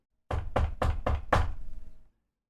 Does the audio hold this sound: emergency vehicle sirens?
no